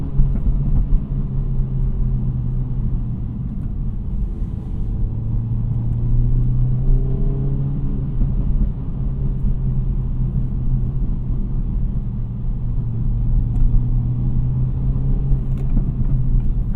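An Acura Integra Type S fitted with a Civic Type R damper module, driven through turns from inside the cabin: a steady low engine drone and road rumble with gentle rises in pitch, no voices.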